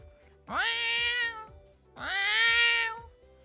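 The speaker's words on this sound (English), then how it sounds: "Oh, it's time for the cat to sing." A cat gives two long, drawn-out meows in a row, loud and close, with a short pause between them.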